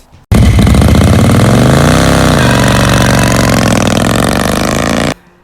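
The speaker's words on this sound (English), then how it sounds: "It was this panhead Harley that my mate built me at the start of the year." A Harley-Davidson panhead motorcycle, with a 1954 engine in a 1956 frame, runs loud and close, its rough throbbing idle lasting about five seconds before cutting off abruptly.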